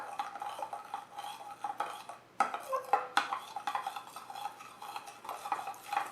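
A spoon stirs and scrapes homemade slime in a bowl, giving repeated close clinks and wet scraping strokes in an irregular rhythm with short pauses, and no talking.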